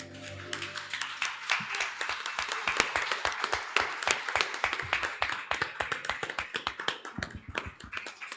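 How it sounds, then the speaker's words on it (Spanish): A church congregation applauds with brisk, sharp claps that keep up a dense, steady rhythm close by, without talking. "Le damos un aplauso al Señor."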